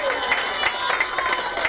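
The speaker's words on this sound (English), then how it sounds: "Everybody give Emma a big round of applause." An audience at a magic show in a library breaks into applause for a young volunteer, a dense, continuous patter of clapping that holds steady throughout.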